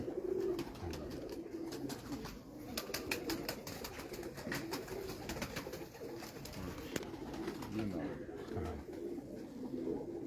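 A loft of kept racing pigeons keeps up a soft, continuous cooing and murmuring, with faint wing flutters and clicks mixed in, under a man's ongoing conversation.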